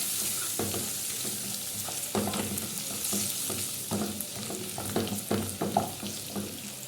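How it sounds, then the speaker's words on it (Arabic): Crushed garlic cloves frying in a pan make a close, continuous sizzle, broken by repeated clattering stirs of a utensil against the pan at irregular intervals. "هدي تشويحه كده بالثوم"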